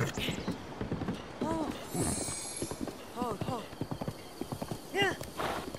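A horse in the game The Legend of Zelda: Breath of the Wild, with steady galloping hoofbeats clopping throughout and several rising whinnies and neighs breaking out over them.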